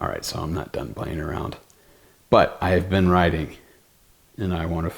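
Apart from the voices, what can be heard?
No distinct noise like a dog, phone or traffic.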